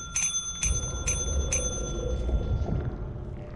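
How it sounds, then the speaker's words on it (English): A bell in the Lethal Company video game rings four times in a steady rhythm, bright and close, with metallic tones lingering under a low rumbling background. "You gotta ring that bell over there for Karen in HR."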